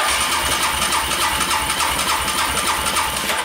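A Yamaha Raptor 700 ATV engine churns with the throttle held open, a loud, close, even pulsing chug that keeps a steady rhythm throughout.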